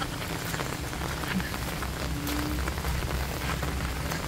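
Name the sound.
heavy rain during typhoon Aghon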